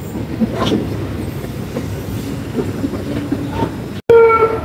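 The Chitra Express from Khulna to Dhaka rumbles loud and close over the rails with a steady clatter, then briefly cuts out before a short, bright whistle-like tone sounds at the end.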